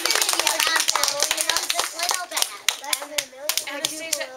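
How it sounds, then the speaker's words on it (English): Students in a class clap for a classmate's presentation, a short ragged round of applause under a person's speaking voice. "Can we give another round of applause?"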